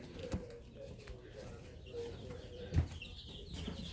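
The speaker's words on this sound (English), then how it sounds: "They are gold comet pullets." Soft, scattered clucking from a few Gold Comet pullets close by, with some low background noise and faint rustling.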